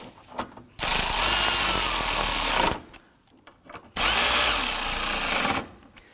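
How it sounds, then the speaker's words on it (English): Power tool snugging down bolts at the air filter base of a 2003-2014 Volvo XC90 3.2L, two loud whirring bursts of about two seconds each, separated by a short pause with light handling noise. "Once those are started, we'll go ahead and snug them down."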